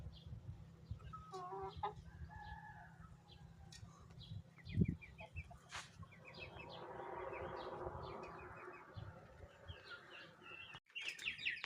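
Young chicks from the smallest April–May batch cheep and peep in a thin scattered chorus, with occasional clucking from nearby fowl and a brief knock partway through; fairly quiet overall, with no talk.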